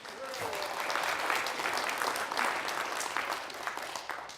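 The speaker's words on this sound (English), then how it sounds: "A round of applause for the Bill of Rights." Audience applause at a Bill of Rights anniversary book festival at the National Constitution Center, a steady wash of clapping from a crowd holding for several seconds, with a voice faintly under it.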